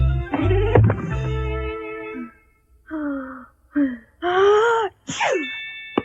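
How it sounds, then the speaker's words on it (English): A series of drawn-out, rising gasps builds up to an exaggerated, theatrical sneeze, loud and close. "The timing on the sneeze was perfect"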